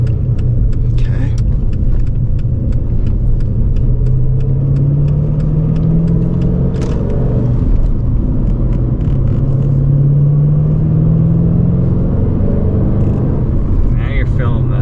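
A 425 hp Dodge Challenger SRT8 with a manual stick shift accelerates, its engine rumbling loud and close from inside the cabin as the pitch rises and falls through the gears, while people talk over it.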